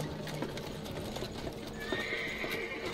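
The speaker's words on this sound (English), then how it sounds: "I thought it was a whole horse and carriage for a second." Horse and carriage in the horror game Amnesia: The Dark Descent, clip-clopping hooves in a steady rhythm with a whinny partway through, moderately close and heard on its own.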